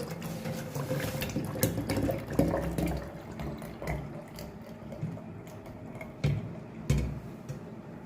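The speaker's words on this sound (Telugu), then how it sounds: "చక్కగా ఇలా బాటిల్లో పోసుకొని" Homemade grape juice poured into a bottle, a faint, steady trickle of liquid with a few light clinks and taps along the way, heard alone without voices.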